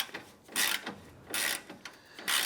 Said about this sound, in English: This will be the first bolt of the 4 that we tighten down.